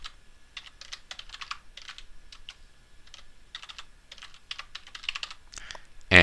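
Search terms are typed on a computer keyboard in quick, close clusters of light keystrokes with brief pauses, heard on their own with no voice over them.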